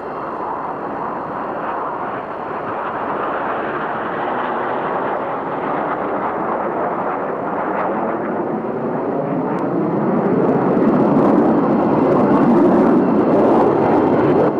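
Jets of the Italian Air Force display team roar past at the Mildenhall air fete, a broad sustained rumble that swells louder toward the end, with a sweeping pitch shift as they pass.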